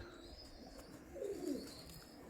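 Pigeons, champion birds kept by a pigeon fancier, give a soft low coo near the middle over faint background hiss, quiet and brief with no talk.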